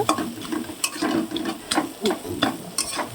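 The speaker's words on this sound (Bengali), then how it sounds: "এটা ভালো করে ভেজে নিতে হবে একটু যাতে ভাজবে মাথাটা পেঁয়াজের সাথে সাথে" Fish heads fry with onions in a hot pan, sizzling steadily while a spatula scrapes and stirs in quick repeated strokes, close and fairly loud.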